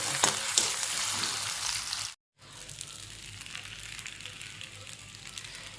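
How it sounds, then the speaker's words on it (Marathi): Potato slices sauté in hot oil in a pan for fasting khichdi, a loud close sizzle that breaks off briefly, then resumes more softly with stirring scrapes. "हा बटाट्याचे काप केलेले जाते हे चांगले परतून घेतले"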